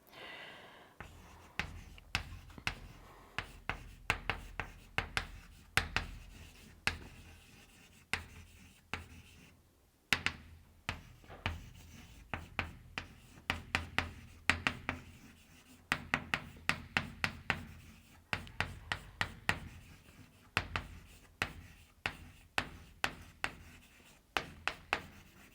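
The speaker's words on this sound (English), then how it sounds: "let me just quickly write down this definition." A lecturer writes out a definition, likely chalk or marker on a board, in sharp tapping strokes and scratchy bursts that come in irregular clusters, close and clear with no talking.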